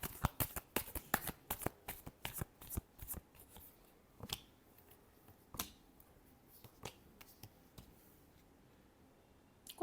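Tarot cards being shuffled, a rapid burst of crisp riffling clicks at the start, then scattered softer card snaps and taps spaced apart, close and fairly quiet with no talking.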